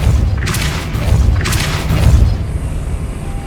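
A Repulsor spell cast in the Hogwarts Legacy video game lands as two heavy, booming bursts of force over a low rumbling bed. It is loud and close, with no talk.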